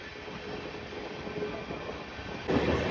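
Passenger train between Tirupati and Chennai slowing as it nears Tiruttani station, a steady rolling rumble of wheels on rails with a sharper, louder clatter arriving near the end.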